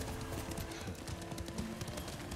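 Horse hooves clip-clopping in the Ghost of Tsushima video game, a faint, steady, rhythmic patter of steps under a low ambient bed with no talk.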